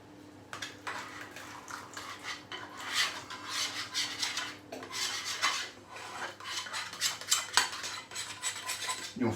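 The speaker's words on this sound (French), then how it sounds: "On mélange bien et on va incorporer ça" Madeleine batter is whisked briskly in a bowl, producing continuous close scraping and rasping strokes of utensil against the bowl in an uneven rhythm.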